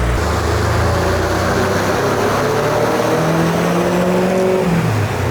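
A BMW E92 M3 running on E85 idles and revs lightly on a dyno, a loud, steady engine drone with gentle pitch rises and falls and no full pull, close and continuous throughout.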